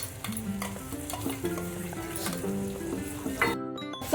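Ground masala with coriander powder being sautéed in a pan, a soft continuous frying hiss with scattered clinks and scrapes of a spoon stirring, close and steady, with a few tonal hums underneath.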